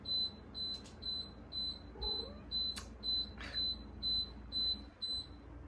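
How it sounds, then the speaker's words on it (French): A dehumidifier's high electronic beep signals a full water tank, repeating steadily about twice a second, a dozen short identical tones over a quiet background hum. "déshumidificateur qui me dit que le réservoir est plein."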